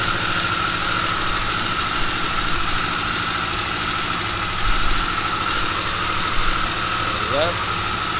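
A Harley-Davidson Sportster S motorcycle engine idles steadily at close range, a constant low rumble with slight swells, while a person talks over it.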